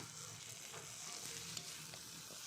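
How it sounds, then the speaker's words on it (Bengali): Chopped tomato stir-frying with onion, ginger and garlic in a pan, a faint even sizzle with occasional soft spatula scrapes. "টমেটোটা দিয়েও ভালো করে পেঁয়াজ আদা রসুন টমেটো একসঙ্গে ভালো করে নাড়াচাড়া করে নিচ্ছি"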